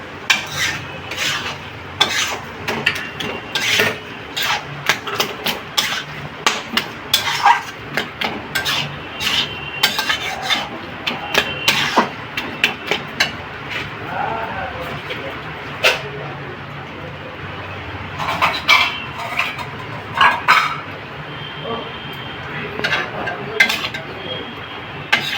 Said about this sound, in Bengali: এবার মিশিয়ে দেবো।